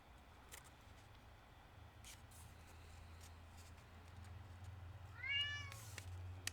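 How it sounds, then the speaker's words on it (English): A cat meows once, close and fairly clear, near the end, over a quiet room with low hum and a few soft taps and rustles. "Oh, God, that cat."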